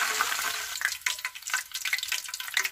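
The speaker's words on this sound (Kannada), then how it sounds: "ನಾವು ತುಂಬಿಸಿದ ನೀರಿನ ಅಂಶ ಎಲ್ಲ ಹೋಗಬೇಕು ಚಟಪಟ ಅಂತಂದಿರುತ್ತಲ್ಲ ಅದೆಲ್ಲ." Raw banana slices frying in hot oil for chips, a close, steady crackle and spatter with bright popping bursts throughout, no voices.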